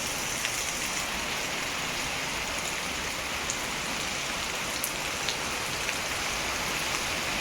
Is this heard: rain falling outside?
yes